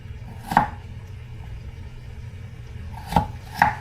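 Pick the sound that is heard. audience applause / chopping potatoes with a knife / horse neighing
chopping potatoes with a knife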